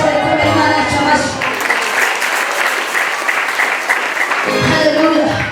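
A church congregation breaks into loud, sustained applause in praise of God, dense clapping filling the middle stretch, with a preacher's voice heard before and after.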